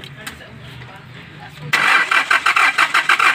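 A Hyundai Porter truck with a hard-starting problem cranks on its starter, close up and loud, with a fast rhythmic chugging that sets in abruptly after a low idle-like hum, and a voice talks over it.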